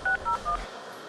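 A quick run of telephone keypad tones, three short beeps in steady succession, clear and close, then a faint hum of quiet room noise.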